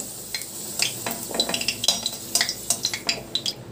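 Cumin seeds frying in hot oil left over from browning potatoes, with a faint sizzle under repeated close clinks and scrapes of a spoon stirring in the pan.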